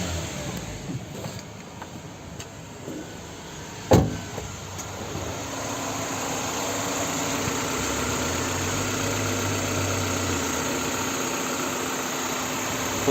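A 1998 Honda CR-V with a 2-litre B20B3 petrol engine and five-speed gearbox idles steadily and smoothly, a low even hum after a brief knock near the start, with no talking.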